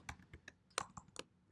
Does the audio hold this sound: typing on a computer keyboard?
yes